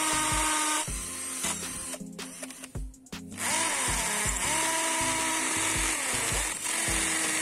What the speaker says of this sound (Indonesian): Selanjutnya kita coba akan ngebor di batako ya